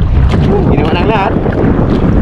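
Strong wind buffeting a fishing boat out at sea, with the rough roar of gusts and water running steadily throughout, while someone talks over it.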